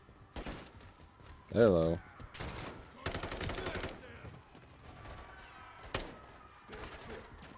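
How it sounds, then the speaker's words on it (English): Full-auto gunfire in the Call of Duty: Modern Warfare campaign rattles in dense bursts, loudest near the middle and breaking off into scattered shots, with a brief spoken word and game noise in between. "Stop shooting civilians."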